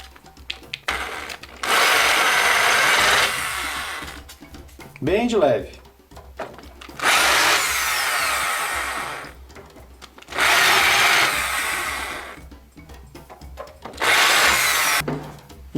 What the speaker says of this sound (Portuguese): passa um pouco a furadeira só para remover essa rebarba.